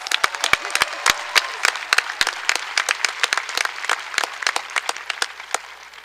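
A high school commencement audience breaks into applause, a dense crowd clapping that fills the space steadily and then tapers off slightly toward the end.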